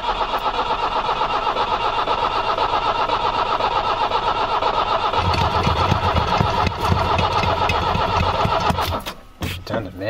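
A 1990 Iveco Daily 35-8 old diesel engine with a suspected pump problem cranks and fires, then runs on with a loud, rough, shaking rumble, close up, ending in a few sharp knocks.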